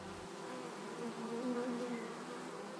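Honeybees forming swarms in the morning make a dense, continuous buzz close by, steady throughout with a slight swell in the middle.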